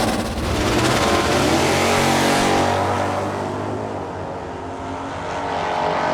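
Drag racing vehicles, including a Polaris, run the quarter mile, their engines roaring loudly as they accelerate past, then the din eases and swells again.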